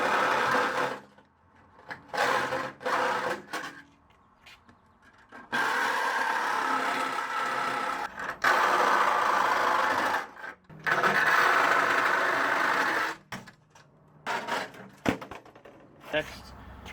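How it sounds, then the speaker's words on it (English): A reciprocating saw with a metal blade cuts the corners of an opening in a door, buzzing in several loud bursts of a few seconds each, separated by pauses. "grab a metal blade for your sawzall"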